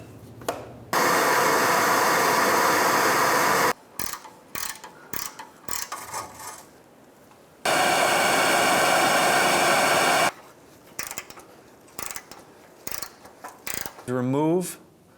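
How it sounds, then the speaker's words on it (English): Ratchet with an 18mm socket working on the front catalytic converter bolts of a 2007-2013 Mitsubishi Outlander makes two long, loud, steady mechanical runs up close, separated by scattered clicks and clanks. "we're going to try and break these two bolts free"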